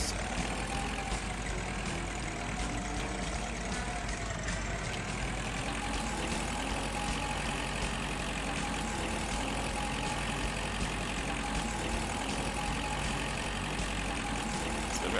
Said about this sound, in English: Well, running up and down it with a tractor, that is.